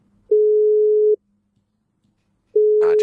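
Repeating tone on an outgoing phone call, two loud steady beeps of equal pitch separated by a pause of silence, with a voice just starting near the end.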